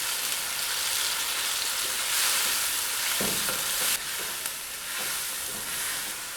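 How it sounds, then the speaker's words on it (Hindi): Two large tomatoes fry with golden-browned onions in a pan for vegetable macaroni, giving a dense, continuous sizzle with occasional stirring scrapes, loud and close with no talking. "टमाटर को हमने प्याज के साथ भून लेना है।"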